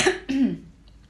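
A single person coughs twice in quick succession, close and fairly loud, followed by quiet.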